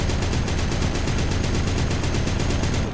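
A turret gun fires in a WW2 eastern front mod game, a loud, rapid stream of evenly spaced shots rattling continuously without pause.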